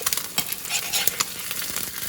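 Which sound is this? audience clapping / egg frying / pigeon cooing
egg frying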